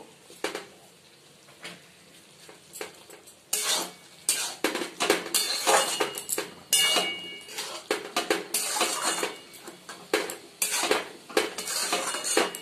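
A spoon repeatedly scrapes and clanks against a metal pan of chicken curry sprinkled with kasuri methi, in dense rhythmic bursts close up, louder in the second half, with no talk.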